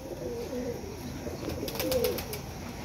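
Racing pigeons kept for a flying competition coo in soft, repeated low throaty phrases, fairly close, over a steady background hiss with no talking.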